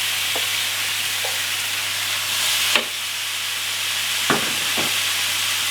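Egg noodles, vegetables, soy sauce and garlic sizzle and hiss steadily in a hot pan, with a few sharp clinks and scrapes from stirring.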